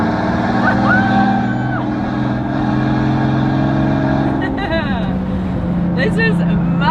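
Engine of a one-off Maybach Exelero on a private airport strip, a loud steady drone with rising revs toward the end, heard under excited talking.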